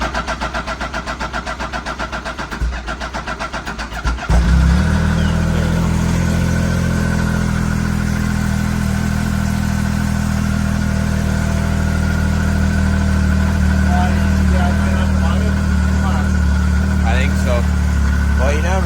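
A 2015 Arctic Cat ZR7000 SnoPro snowmobile engine cranks for a few seconds, then catches on a cold start and settles into a loud, steady idle.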